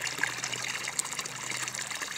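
Water seeps and trickles through bricks and rocks into a freshly dug homestead pond, making a steady, soft, hissing flow that continues evenly without breaks.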